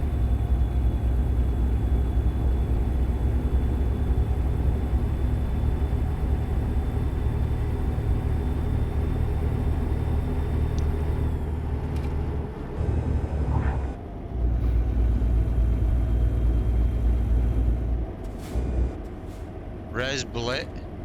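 Peterbilt truck engine droning while driving, a steady low rumble with brief dips and shifts, heard under a person talking throughout.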